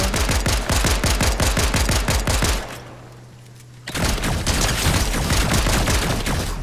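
Rapid automatic gunfire in Fortnite, dense bursts of shots that stop briefly for about a second before the firing resumes just as fast and loud, close and with no talk.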